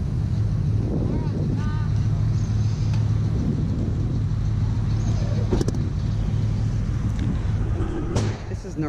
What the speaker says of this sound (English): Somebody else is driving my car.